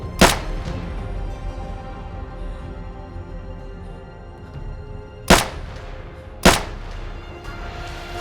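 Three sharp gunshots in the Project Zomboid video game, fired by the character Emily at a hospital: one near the start, then a close pair a second apart later on, each loud and abrupt with a short decay over a low ambient bed.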